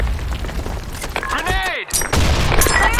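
Grenade blast in Battlefield on the Broken City map: gunfire and thuds build to a heavy explosion with a sudden dropout, then renewed crackling fire, with game voices heard over the din.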